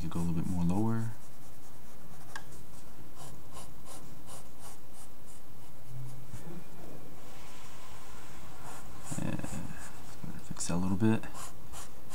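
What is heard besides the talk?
pencil drawing a manga head's chin on paper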